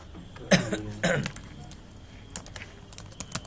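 Two coughs or throat-clears sound first, followed by sparse, quiet clicks of someone typing on a computer keyboard in MS Word.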